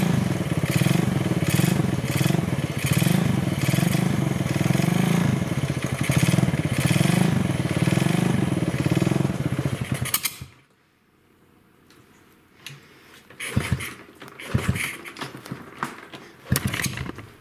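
A motorcycle engine idles loudly and roughly for several seconds, then abruptly cuts out, leaving near-silence broken by a few clunks and knocks.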